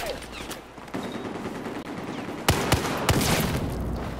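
Scattered gunfire volley in a video game battle, sharp cracks popping over a dense, noisy background of combat, with a couple of louder shots standing out midway.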